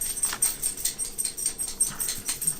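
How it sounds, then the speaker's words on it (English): A dog scratches itself, its collar jingling in quick, irregular rattling bursts close by, repeated steadily for a few seconds with no talking. "My dog's in here scratching himself, jingling around"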